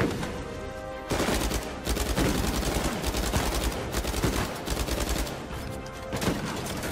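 Shotgun blasts ring out in Uncharted 4 during a loud firefight, with dense bursts of gunfire nearly continuous from the second second onward and a little talk beneath.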